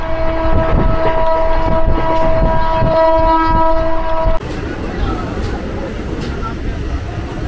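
The Sealdah Rajdhani Express (12314) runs with a sustained horn blast over a rumbling rail roar, then steady rolling wheel noise and clatter, loud and close from on board.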